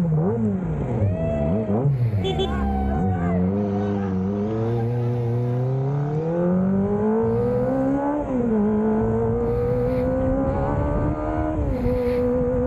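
A Kawasaki ZX25R motorcycle's four-cylinder engine revs hard and close, its high-pitched wail sweeping up and down in repeated throttle blips, then climbing in a long sustained rise.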